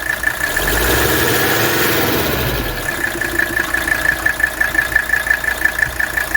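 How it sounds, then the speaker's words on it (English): A 1983 Mercedes 300TD's 617 diesel engine idling steadily with an even, rhythmic low knock and a constant high whine, close by, with a brief swell of rumble early on. "Very, very healthy 617 engine."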